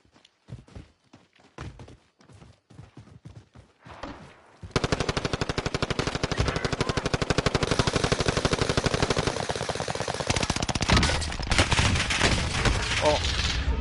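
Gunfire in Warzone on the Caldara map: scattered single shots first, then a long, loud, rapid burst of automatic fire that keeps going to the end.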